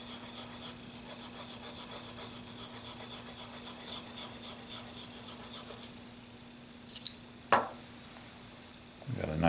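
An A2 steel Blum plane blade is rubbed back and forth on an Arkansas sharpening stone, giving a steady series of close, gritty rasping strokes that stop after about six seconds, followed by a couple of brief scrapes.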